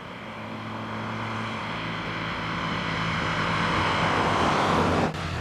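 A loud, throaty supercharged Bentley engine with a nearly straight exhaust roars, building steadily over a few seconds, rumbling with a harsh exhaust tone, then cuts off abruptly near the end.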